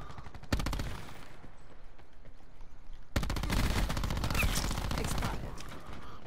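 Automatic gunfire from a multiplayer shooter game rattles in a short rapid burst, pauses, then returns louder in a longer sustained stream of shots.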